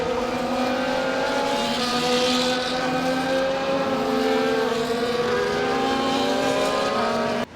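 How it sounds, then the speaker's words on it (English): F1 cars in the F1 24 video game roll into their grid positions, engines humming in a steady, layered drone with slowly shifting pitch and a brief swell, loud and continuous throughout with no talk. "the cars take their positions on the grid"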